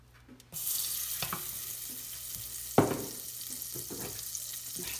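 Butter melting in a casserole on the stove for chicken seffa medfouna, a steady close sizzle that starts abruptly after a quiet moment, with scattered clinks and pops over the hiss.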